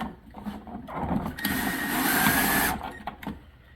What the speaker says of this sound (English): Then we're going to go ahead and insert our outlet screws